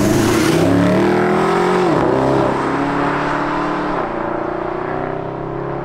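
A Mercedes SLS AMG Roadster with its 571-horsepower V8 pulls hard on the road, a loud, continuous engine note climbing and dipping through gear changes with a close, steady exhaust roar throughout.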